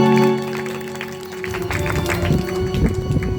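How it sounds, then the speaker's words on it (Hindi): Audience clapping at a Hindi devotional discourse, a dense crowd of hands building after a brief lull and continuing steadily, with music in the background. "ताली बजाओ।"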